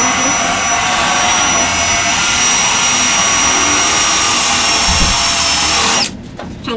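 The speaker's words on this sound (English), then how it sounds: "Try not to drill all the way through." A power drill whines steadily and loudly while drilling out a panel, a continuous high-pitched drone with a brief thump near the end before it cuts off.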